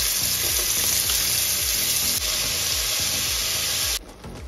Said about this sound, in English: I have a little olive oil in the bottom of my pan and I'm now frying up my turkey bacon.